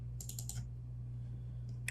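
Quick cluster of computer keyboard clicks and typing at a desk during Photoshop editing, a few close, light taps early on and one more click near the end, over a steady low electrical hum with no talking.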